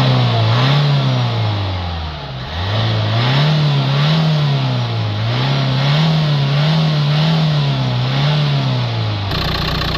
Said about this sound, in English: I'm going to start the engine, blow out any of the excess fluid that's left in the tube